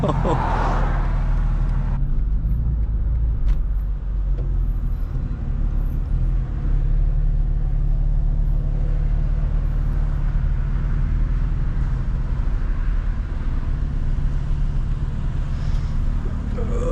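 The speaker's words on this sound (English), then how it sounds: "Our cars are so low that you have to go in super slow." A lowered BMW G87 M2 tuned to 900 hp creeps slowly into a parking area, its engine giving a deep, steady, close rumble throughout, with a louder rev near the start and people talking over it.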